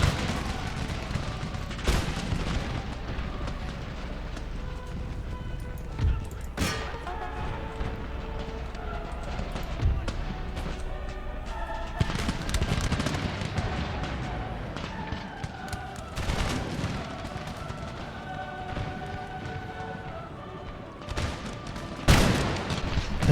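Musket volleys in Empire: Total War, repeated crackling gunfire bursts and booms over a steady battlefield roar, with music and distant shots continuing throughout.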